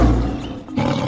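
A fierce tiger roar sound effect in a children's fairy tale, a loud, close growling roar that swells, dips briefly and surges again, heard alone without narration.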